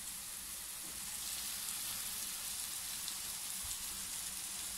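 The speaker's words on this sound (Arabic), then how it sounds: "هي كتقلى كيتقلى داك الدجاج قلى" Chicken frying in a pan, a steady soft sizzle with fine crackling and popping, faint and even throughout, with no voices.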